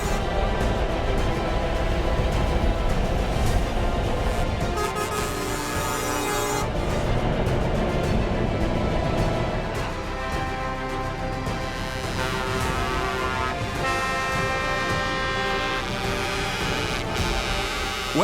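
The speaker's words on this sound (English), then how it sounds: "the truck convoy, which gets bigger year on year, is a popular part of the festival" A truck convoy driving around the Gowran Park track at the Gowran Festival of Speed, a dense, continuous rumble of heavy diesel engines rolling past, loud and steady throughout.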